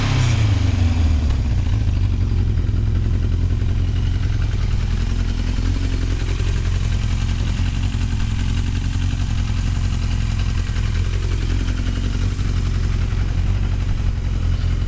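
A Japanese motorcycle engine runs steadily with a low, continuous idle rumble and light mechanical clatter, close by and alone, on a bike wired up from scratch with minimal wiring and a rear brake switch.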